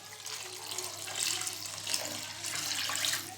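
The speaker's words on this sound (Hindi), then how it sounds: "और उसके बाद हम इसमें शामिल करेंगे जी पानी। पानी जाएगा तकरीबन इसमें आधा लीटर।" About half a litre of water is poured into a cooking pot for chicken korma, a steady close splashing pour that swells and eases over a few seconds.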